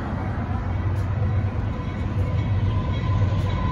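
An empty northbound Union Pacific freight train approaches at Dittmar Road in Austin, Texas. A loud, steady rolling rumble with faint rail clatter fills the whole stretch.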